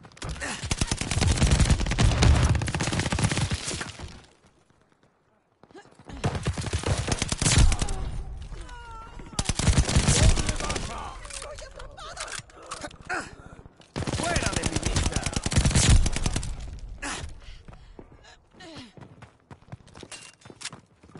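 Gunfire in a Call of Duty Vanguard match, dense bursts of shots and explosions in three long loud stretches separated by brief lulls, with game voice callouts mixed in.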